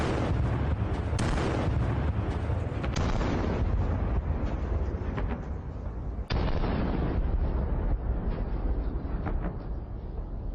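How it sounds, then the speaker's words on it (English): Rapid, continuous explosions in a combat strike on a Russian special forces column, one blast after another without pause, loud and dense with sharp bursts piling over a heavy rumbling wash. "Explosions continued to occur one after another without stopping."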